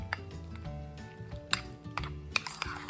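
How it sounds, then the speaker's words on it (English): A thick mix of sour cream, cheddar, cream cheese and ranch seasoning is stirred in a bowl, giving soft, quiet scraping and occasional light clinks of a utensil against the bowl. "And then mix together well."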